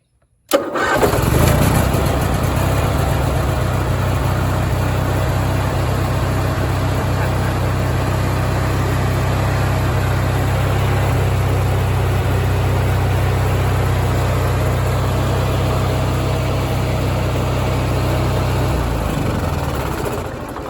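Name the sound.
Onan gas power generator starting and running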